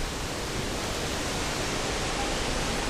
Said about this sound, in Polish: Ten szum, który słyszycie, to wszystko z tej elektrowni wodnej.